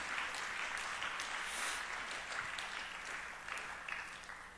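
Steady applause from a crowd, a dense continuous patter of clapping with no voices over it.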